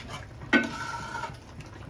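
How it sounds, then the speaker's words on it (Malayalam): A Kerala-style chicken curry is stirred in a pot after pepper goes in: sharp metal scrapes of a spoon against the pot come in two bursts, over a soft, continuous sizzle close by. "കുരുമുളക് കൂടി ഇട്ടിട്ടൊന്ന് മിക്സ് ചെയ്യാം"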